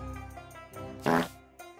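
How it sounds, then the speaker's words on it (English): A comedic fart ability sound effect in the video game Terraria, a short loud burst standing out over a background of game music and ambient sound. "And look, we have the fart ability."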